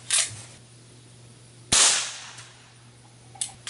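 A gun loaded with 2.5 grains of powder and a Magnum small pistol primer fires a ping pong ball with one sharp, loud crack, framed by fainter clicks and handling noises before and after.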